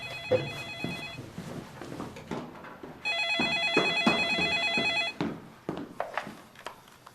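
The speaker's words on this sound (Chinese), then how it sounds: "我去接个电话" A telephone rings during a birthday gathering, its electronic ringtone melody repeating in two clear bursts over quiet room noise and a few footsteps.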